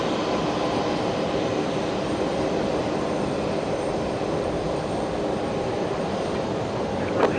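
A Qantas airliner arriving from Sydney touches down at Brisbane Airport, a steady broad jet engine roar heard at a distance, holding even throughout with no voices.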